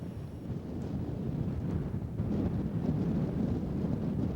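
Wind blowing across a steep lava crust landscape on a volcano above a crater lake, a steady low rushing buffet against the microphone that strengthens slightly partway through.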